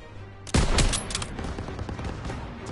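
Machine gun turrets fire in the Call of Duty WWII campaign, a sudden loud burst of rapid gunfire erupting after a short quiet lead-in, then continuing as a dense, sustained fusillade of shots and battle noise.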